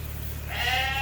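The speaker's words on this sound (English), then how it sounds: "And at the very back are the Dorset lambs that we held back." Dorset sheep and lambs bleat inside a farm barn, a clear sustained bleat rising in the second half over a steady low hum, close and fairly loud, with no talking.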